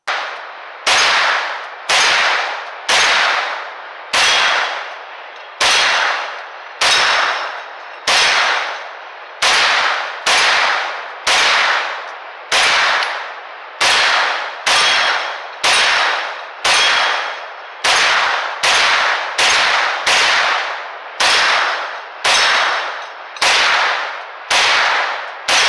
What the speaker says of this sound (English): this is my first time shooting the Stribog